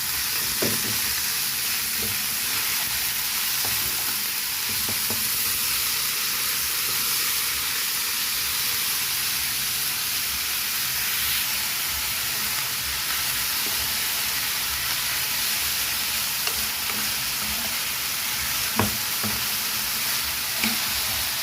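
Shredded chicken breast fries in a pan with sugar, giving a steady, loud sizzle and hiss with occasional faint stirring scrapes, with no voices.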